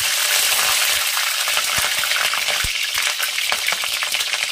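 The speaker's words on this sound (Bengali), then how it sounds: "তেল গরম হয়ে গেছে, এবার আমি ভেজে নেব" Steady loud sizzle of frying in hot mustard oil, part of cooking a dhaba style Rajasthani chana dal, with scattered sharp crackles and spits throughout and no talk.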